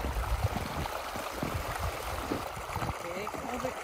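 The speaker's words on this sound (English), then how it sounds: "And here's a little waterfall." Small waterfall and stream pouring past a culvert on a mountain hiking trail after a spring snowstorm, a steady broadband rush of water close by with faint gurgles, filling the whole clip.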